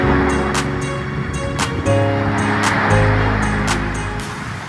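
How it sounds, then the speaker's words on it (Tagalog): Heavy surf churns and roars steadily nearby on Manila Bay during monsoon weather, with a low engine-like drone and intermittent rhythmic clanking over the turbulent water. "galit na galit yung alon eh."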